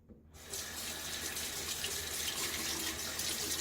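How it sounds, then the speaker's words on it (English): Tap water running into a ceramic shaving mug, a sudden steady splashing stream that starts after a brief silence and keeps flowing evenly at close range, with nothing else heard. "Let's add a little bit more water."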